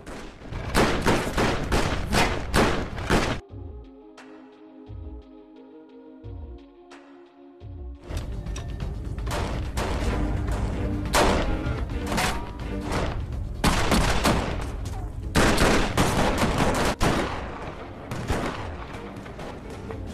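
A movie shootout between rival gangs fills with loud, rapid gunfire bursts. The shots break briefly for a tonal, musical stretch, then heavy firing resumes and continues densely to the end.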